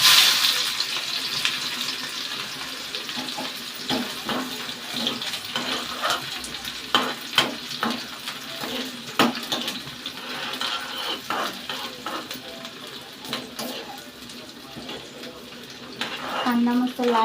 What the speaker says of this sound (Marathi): कांदा मस्त लाल परतून घेऊ।